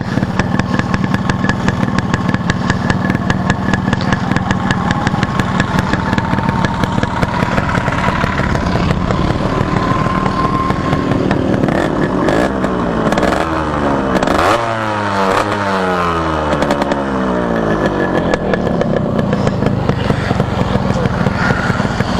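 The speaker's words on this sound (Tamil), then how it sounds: "இதுதான் நம்ம பைக்கோட பீட்டு." A 1989 Yamaha RX100 motorcycle engine idles with a steady, throbbing beat, loud and close, rising briefly in pitch as it revs partway through.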